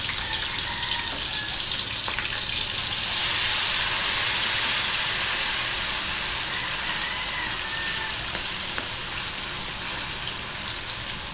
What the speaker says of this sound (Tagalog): magpiprito naman ako nito isda